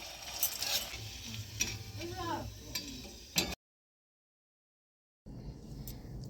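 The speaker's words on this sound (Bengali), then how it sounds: "আর একইভাবে আমি" Mini Mughlai paratha fries in a pan with a soft sizzle and scraping, clinking stirs close by. A voice talks briefly over it, then the sound cuts out completely for about two seconds before the frying resumes.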